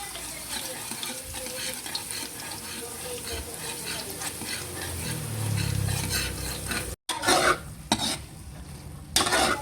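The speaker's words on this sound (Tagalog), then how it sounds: "ako po ay nagigisa na. Ito pong bawang at sibuyas." Garlic and onion sautéing in a pan for spaghetti sauce, a steady sizzle with stirring and pan scrapes, briefly cut off, then louder clattering stirs near the end.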